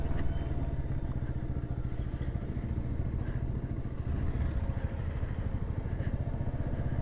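A motorcycle rides along a narrow, curving road on an early-morning trip near Kolkata, its engine droning steadily and close throughout with a rough, pulsing low rumble and no talk.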